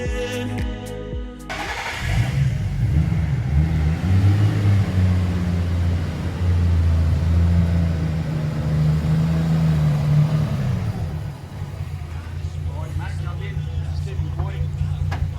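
A Nissan Skyline R34 engine cranks and starts, then settles into a steady idle and low rumbling drive with engine tone shifts, close up, with people talking inside the car.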